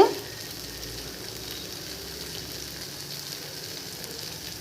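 Prawns with salt tossed into a hot pan for a spinach gravy, frying with a steady close hiss and sizzle after a sharp initial splash, continuous and even throughout.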